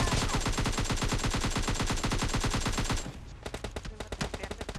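Rapid automatic gunfire from a DP-28 light machine gun in a battle royale video game fight, a loud sustained burst of shots for about three seconds, then scattered separate shots and clatter.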